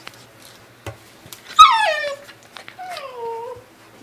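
Two pet dogs whimper and yip at close range, a rising whine followed by a shorter falling whimper, with a few soft knocks between.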